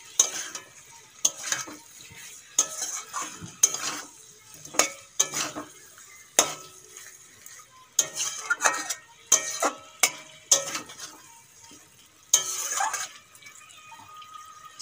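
Marinated meat and spices are stirred in a pan over a low gas flame with tomatoes already melted down: repeated scraping spoon strokes over a soft, steady sizzle, with no talking.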